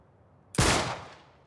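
A single loud gunshot in Uncharted: Drake's Deception, a sudden sharp crack after quiet that rings out and fades over about half a second.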